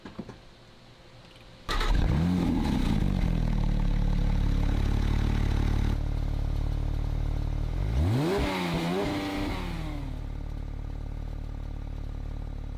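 A 2020 Porsche 911 Speedster fires up with a sudden loud catch and rising revs, settles into a steady deep idle, then gets a quick blip of revs before dropping back to a smooth idle.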